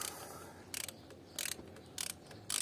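A ratchet wrench unscrews a car spark plug, its clicking arriving in four quick bursts separated by short pauses, close and clear with no talking.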